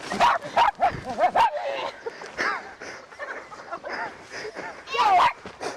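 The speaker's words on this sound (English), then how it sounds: "Now you're getting the dog upset." A dog barks and yips excitedly in short bursts, close by, mixed with agitated human voices talking over it.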